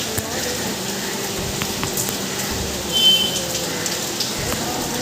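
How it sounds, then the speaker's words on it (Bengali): Heavy rain falls hard, a steady close wash of drumming drops with a few sharper splashes and a brief louder gust of patter. "এখন রেডি হওয়ার পর বৃষ্টি নেমে গেছে খুব জোরে"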